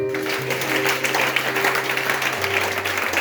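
Church congregation clapping together during a worship service, a dense steady applause under faint music tones, continuing at even loudness throughout.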